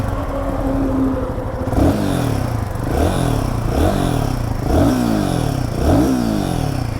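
A Royal Enfield Himalayan 450 motorcycle engine running close by, its exhaust rising and falling through a series of about five rhythmic revs over a steady mechanical idle, no talking.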